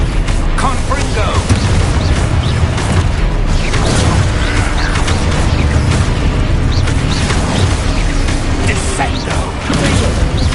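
Confringo fire-blast spell cast in the Hogwarts Legacy video game, loud booming bursts over a dense, continuous wash of game combat noise and mechanical clatter.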